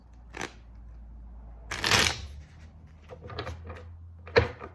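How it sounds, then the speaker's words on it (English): Tarot cards are shuffled in a few separate bursts, a short riffle, a louder rustling flurry, then another brief flick, close by and otherwise quiet. "That was my best shuffle"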